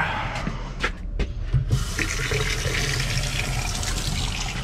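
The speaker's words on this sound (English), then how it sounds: "So I don't have the heater on right now, I'm just running water." Water runs steadily through a Navien tankless water heater being flushed with the heater off, a close, continuous hiss of flow after a few brief spurts and knocks at the start.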